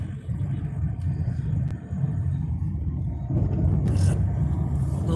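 A car passing along a road, heard as a steady low rumble that swells slightly toward the end, with no one talking over it.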